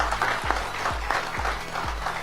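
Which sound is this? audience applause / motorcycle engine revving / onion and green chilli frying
audience applause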